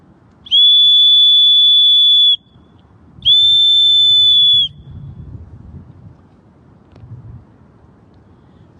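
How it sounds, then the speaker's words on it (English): A small handmade wooden whistle turned from a pen blank gives two long, steady, shrill blasts, clear and close, each a couple of seconds long, followed by quiet room noise. "So this is my finished whistle."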